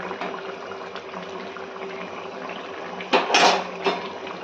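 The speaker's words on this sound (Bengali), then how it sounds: "আর এদিকে দেখো ভাতও ফুটছে" A steady low bubbling and simmer from a pot, with a short burst of louder clatter and hiss near the end.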